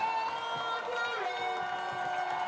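A crowd at a baseball game in Walker Stadium keeps up a steady, distant roar of cheering and chatter, a dense wash of many voices with whistle-like tones rising and falling throughout.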